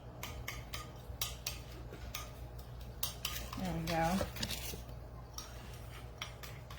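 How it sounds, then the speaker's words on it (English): A spoon clinks and scrapes against a bowl while pizza seasoning is stirred into a dipping sauce, with quiet repeated taps and a short spoken phrase partway through. "Put that in and give this a stir."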